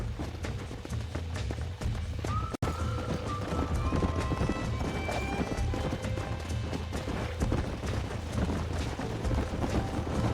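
A horse gallops in Red Dead Redemption on Xbox, its hooves drumming in a steady, rapid clip-clop rhythm that stays close and continuous, with a sharp knock partway through.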